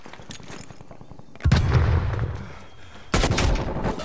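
Two loud bursts of rapid gunfire in the video game Call of Duty Cold War, each a dense rattle lasting over a second, separated by quieter background noise with faint distant shots.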